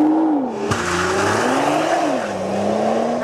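A 2013 Nissan GT-R Black Edition launches from a standstill using launch control, its engine roaring loud and close as it accelerates steadily with rising and shifting engine pitch and a brief sharp snap near the start.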